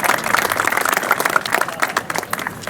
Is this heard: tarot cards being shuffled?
no